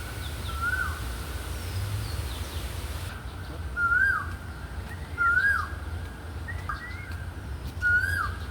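Caged birds at a Hong Kong zoo give repeated sharp, rising-then-falling whistled calls, five or six spaced a second or so apart, clear and fairly close over a steady low background rumble.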